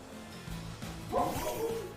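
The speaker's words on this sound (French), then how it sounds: "Le chien." A dog barks and yips in a Pokémon video game, a short burst of game sound effects at moderate volume, with no talking over it.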